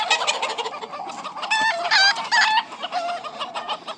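An Andalusian rooster, an egg-laying barnyard fowl, crows in loud harmonic bursts mixed with steady clucking, heard close and alone with no talk.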